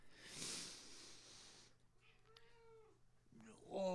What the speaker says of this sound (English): Oh, this is Kitty.